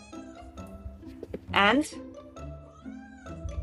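A pet cat gives one clear, drawn-out meow partway through, close by, with a person talking quietly before and after.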